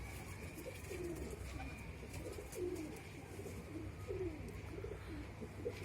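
Soft, repeated cooing of pigeons rolls on continuously at moderate distance, several birds overlapping over a faint background hum.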